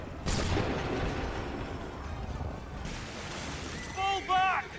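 A cannon volley booms out in Assassin's Creed III Remastered, one heavy blast followed by a long rumbling wash of noise and sea surf, with shouting voices breaking in near the end.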